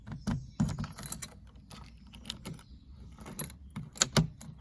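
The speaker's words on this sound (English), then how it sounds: "with one of the many keys to get into this thing." Keys jangle and clink in short metallic bursts while unlocking a 1977 Reliant Scimitar, fairly faint and close, with quiet gaps between the rattles.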